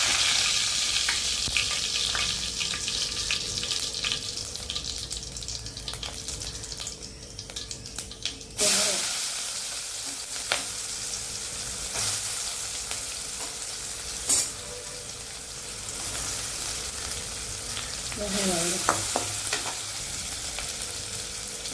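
Chicken frying in a pan with a little oil, fennel seeds and green chilies, a steady soft sizzle with stirring scrapes, running tap water and occasional clinks, no talk.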